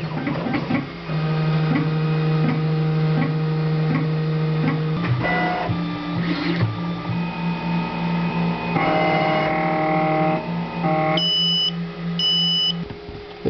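A Solido SD300 Pro multi-colour 3D printer runs continuously up close, its stepper motors whining in shifting tones and pitches, with short electronic beeps near the end.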